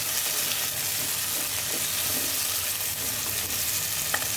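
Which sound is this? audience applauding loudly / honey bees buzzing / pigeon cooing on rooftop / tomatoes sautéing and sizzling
tomatoes sautéing and sizzling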